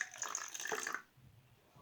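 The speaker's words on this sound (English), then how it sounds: "you're going to take your water and you're going to put the water into here." Water is poured into a container while making slime from shampoo, flour and salt, a close splashing, gurgling stream for about a second that stops abruptly, leaving quiet room tone.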